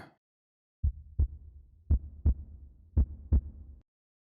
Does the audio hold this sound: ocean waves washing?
no